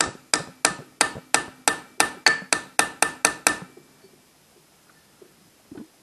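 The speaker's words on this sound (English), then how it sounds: "bring in my socket, my tiny ball peen hammer." A tiny ball peen hammer taps a socket to seat a valve stem seal on a Honda J-series V6, about a dozen crisp, evenly spaced strikes in a quick row that then stop, leaving near silence.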